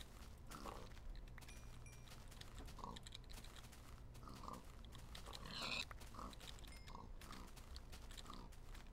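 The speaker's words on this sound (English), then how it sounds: "That's a lot of pigs." Pigs in the Minecraft video game grunt and oink in short scattered bursts over about nine seconds, fairly quiet against a steady low background hum.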